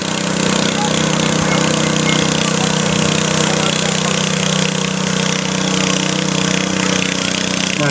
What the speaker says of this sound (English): this Blue Thunder tractor rolling back through the pits there is for sale